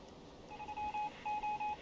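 Short series of electronic tones from a submarine radio transmission in the U-boat video game, several quick beeps in two clusters, faint and alone.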